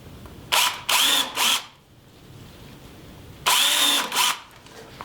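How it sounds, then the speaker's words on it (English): Power drill boring a pilot hole in a wooden Dutch door for a tiny house build: three short whirring bursts in quick succession, a pause, then two more bursts, loud and close with no talking. "I'm going to put a little pilot hole in here."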